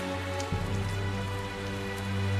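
Steady rain pours down in the fantasy video game Tales of Zestiria, a dense, even hiss with a faint low hum beneath it, continuous and close throughout with no voices.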